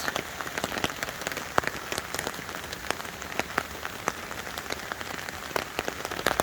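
Heavy rain drums on a camping tent, a dense, steady patter of close drops with sharper individual hits, continuous and without any talk.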